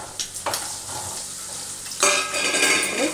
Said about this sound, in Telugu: ఇప్పుడు దాంట్లోకి మనం వేయించి పెట్టుకున్న జీడిపప్పు, పచ్చిమిర్చి, వేరుశనగ గుళ్ళు ఇవన్నీ దాంట్లోకి వేసేసుకుందాం.